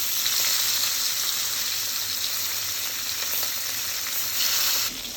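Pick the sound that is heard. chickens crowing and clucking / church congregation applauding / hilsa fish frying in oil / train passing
hilsa fish frying in oil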